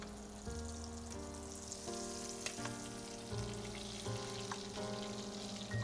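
Salmon sizzles steadily in a pan as it fries and is basted with garlic butter, a continuous crackling hiss with occasional spoon clinks, heard under tonal background music.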